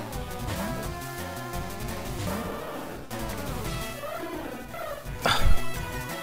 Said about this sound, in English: More growling.